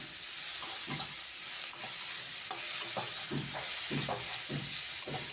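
Potato and eggplant sautéing with onion and tomato in a pan, a steady soft sizzle under repeated rhythmic stirring strokes, close and moderately quiet.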